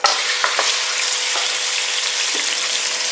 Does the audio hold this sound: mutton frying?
yes